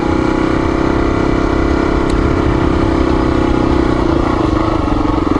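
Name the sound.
XR400R motorcycle engine running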